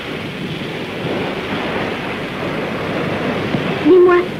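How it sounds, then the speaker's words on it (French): Sea waves and tide washing in and out, a steady broad rushing surf sound with gusty wind noise, continuous and fairly loud, ending with a short tonal cue. "jamais elle s'arrête d'avancer et de reculer. C'est la marée."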